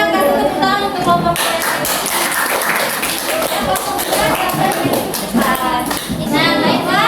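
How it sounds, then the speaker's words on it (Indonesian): Students in a classroom clap for a group about to present, a steady patter of hand claps mixed with overlapping chatter and a voice speaking throughout. "kita kasih tepuk tangan untuk kelompok"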